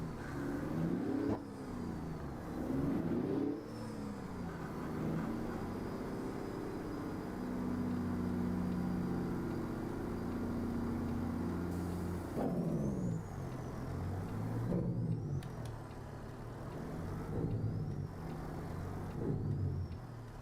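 A heavy truck fitted with a Caterpillar engine sound mod in a driving simulator, its diesel drone rising and falling through repeated revs and gear changes, steady and close with a sustained cruising stretch in the middle.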